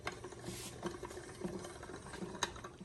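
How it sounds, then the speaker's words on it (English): A hand-cranked pasta machine cuts fettuccine with a quiet, steady ratcheting of gears, close up and soft, with small clicks as the crank turns. "she's switching the crank to the fettuccine"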